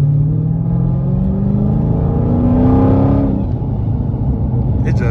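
A Dodge Challenger Scat Pack 392 widebody revs hard at a late-night car meet, its loud close engine note climbing and then falling back to a rumbling idle, with no talking over it.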